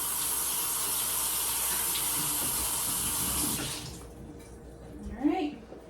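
Tap water runs steadily into a sink while apples are washed, a loud close hiss that cuts off after about three and a half seconds, followed by brief handling noises.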